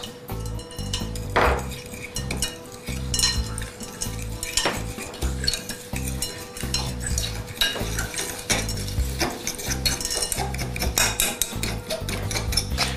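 Sugar being stirred into a mixture in a bowl, with steady clinking and scraping of a utensil against the bowl continuing throughout, close and fairly loud, no talk.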